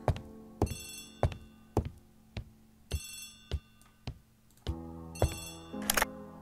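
A telephone bell rings in the video game Agatha Christie: The ABC Murders, in repeated bright bursts broken up by clicking thunks, with no talking over it.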